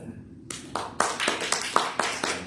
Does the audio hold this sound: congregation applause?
yes